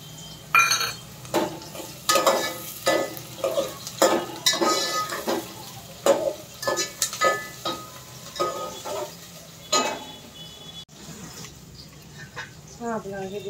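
Finely chopped green chilies, three of them, sizzling in a pan with onions and garlic while a spoon stirs and scrapes in a steady run of close, rhythmic clinks; a voice talks briefly near the end.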